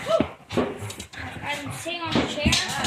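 A dog whimpers and yips in short, high, wavering cries mixed with panting, close by, while people talk over and around the sounds.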